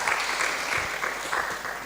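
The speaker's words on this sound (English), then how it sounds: "Maybe we should give Ndwedwe a big round of applause for that." Loud, sustained applause from an audience at a college poetry and book review competition, a full steady wash of clapping that holds evenly across the whole moment.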